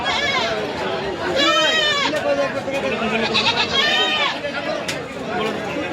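A mother goat and kid bleat loudly nearby at the Baneshwar goat market in Rajshahi, a few wavering cries rising over a crowd of people chatting.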